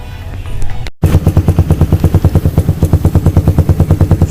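Raider 150 motorcycle fitted with an Akrapovic muffler, engine started after a brief handling noise and then running loud and close with a rapid, even pulsing exhaust rhythm.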